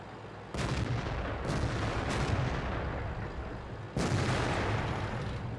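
Tank cannon shots from an Object 140 medium tank in World of Tanks, two sharp loud blasts roughly three seconds apart, each followed by a lingering rumbling tail, with no voices.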